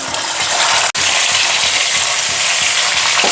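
Salted, turmeric-coated, sun-dried elephant apple pieces fry in hot oil with a loud, steady, dense sizzle that continues without pause, broken only by one brief dropout.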